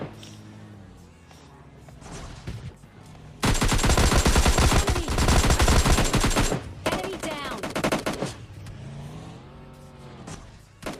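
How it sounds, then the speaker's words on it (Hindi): Rapid automatic gunfire in the mobile game PUBG Mobile Lite, a loud sustained burst of several seconds with a vehicle engine and shorter shots around it, and someone talking over the quieter parts. "कभी गाड़ी से टेढ़े हो के गोलियां मार रहे हैं"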